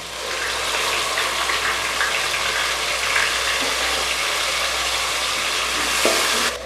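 Onions with cinnamon, cloves, cardamom, cumin, fenugreek and fennel seeds sizzling in hot oil, a loud continuous frying hiss with stirring scrapes, close and steady.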